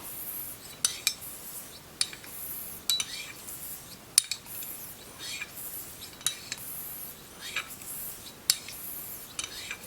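A straight razor scrapes in short, repeated strokes across a very hard Okudo Asagi finishing whetstone, crisp and close, with light clicks between passes in a steady rhythm.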